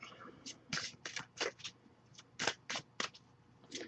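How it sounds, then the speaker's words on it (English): Quiet, irregular bursts of tarot card shuffling and riffling, soft papery flutters and taps close by, with faint low background hum. "we'll just shuffle a bit, see if we get anything for that."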